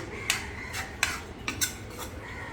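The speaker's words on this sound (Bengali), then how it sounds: "এই যে আমার মাছগুলো রান্না হয়ে গিয়েছে এখন আমি মাছগুলো উঠিয়ে ফেলবো" Cooked koi fish are lifted out of a pan with a metal utensil, giving a few sharp scrapes and clinks against the pan spaced irregularly over soft background hiss.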